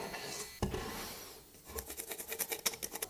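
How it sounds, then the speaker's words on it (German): Wooden edges glued together and marked with pencil are sanded flush by hand, giving a short scrape followed by a quick series of rhythmic rasping strokes, close and fairly quiet. "und schleife das Ganze jetzt einfach nach, bis die Markierungen alle gleichmäßig verschwunden sind"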